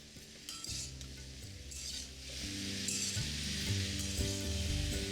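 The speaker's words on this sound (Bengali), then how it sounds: "এই আলু আর ফুলকপিটা ভাজার সময় আপনাদের দিয়ে দিতে হবে সামান্য একটু হলুদ আর নুন" Potato and cauliflower frying in a pan with turmeric and salt, a steady loud sizzle with clinks of a spatula or spoon stirring against the pan, no voices.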